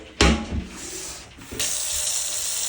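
A small stream of water runs from a bath tap, starting with a few splashy bursts before settling into a steady, close hiss of flowing water with no talking.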